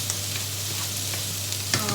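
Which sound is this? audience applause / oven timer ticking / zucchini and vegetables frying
zucchini and vegetables frying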